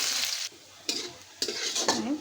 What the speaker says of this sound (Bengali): আমি এখানে বাগারের জন্য অল্প করে তেল দিয়ে দিচ্ছি আর পেঁয়াজ দিয়ে বাগারটা দেবো।